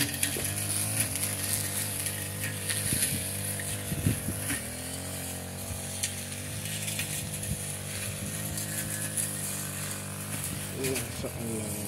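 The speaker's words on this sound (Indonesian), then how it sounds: "Soalnya ada suara mesin ini potong rumput" A grass cutting machine engine drones steadily at a rice field in a village on a mountain slope near a forest, a continuous buzzing whine held at moderate distance for the whole stretch, with occasional faint knocks and handling noises.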